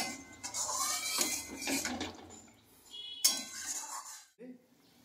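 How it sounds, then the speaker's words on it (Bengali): Tangra fish are slipped into boiling water for a thin Bengali curry with raw banana, giving watery splashing and metallic pot clatter at close range, fading into brief clinks. "আর যখন এই গরম জলটা ফোটা শুরু হবে, তখন আমি এর মধ্যে আস্তে আস্তে মাছগুলোকে দিই।"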